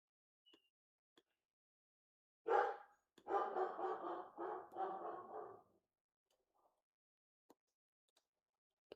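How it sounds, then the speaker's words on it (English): A dog barks in a short burst of several quick, fairly loud barks over a few seconds, with near silence and only faint ticks before and after. "Puppy dog, you need to stop barking."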